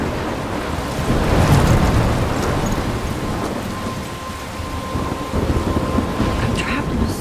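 Thunderstorm with steady rain in the video game Life Is Strange, a loud continuous downpour with rumbling thunder rolling through the whole stretch, no voices.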